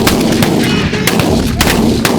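Shotgun blasts ring out at geese during a goose hunt, several sharp loud reports spaced irregularly over a steady background din of honking birds.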